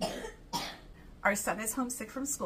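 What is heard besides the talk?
child coughing in the background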